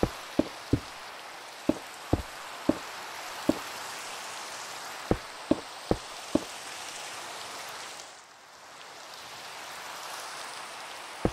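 Steady hiss of rain in the video game Minecraft, with sharp isolated knocks scattered irregularly over it. The rain briefly dips quieter near the end and then returns.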